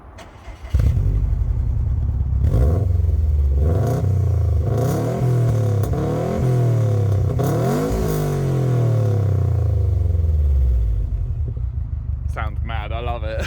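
Subaru WRX STI with a Cobra turbo-back exhaust, rated 360 bhp, fires up and is blipped through several sharp revs that rise and fall, loud and close, before settling into a throaty idle as a voice speaks.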